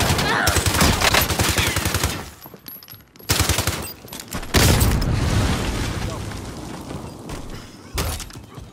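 Call of Duty combat with loud rapid automatic gunfire and heavy booming explosions in close, overlapping bursts, while a voice shouts over the noise.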